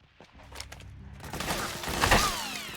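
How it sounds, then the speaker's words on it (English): Gunfire in Metal Gear Solid 4: scattered pops build into a dense fusillade of shots and mechanical clatter, growing louder and busier toward the end. "Ooh, are they shooting at me?"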